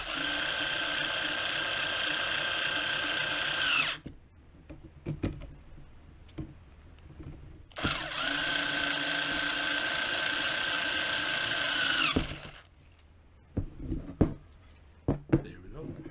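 Small screws are driven by a ratcheting driver into a 1:14 scale construction-equipment model (gravel harp), two long sustained ratchet runs with short gaps between them, close and clear, with no one talking.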